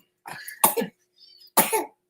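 Two harsh, close coughs from one person, with a brief softer breathy sound between them.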